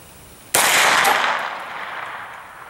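A single loud, close AR-9 rifle shot cracks out during an ammunition accuracy test at 100 yards, followed by a long, fading outdoor echo and no voices.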